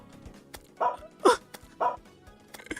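Short dog barks from a video game sound effect pop out in a quick irregular series of four or five clipped yips over a faint background.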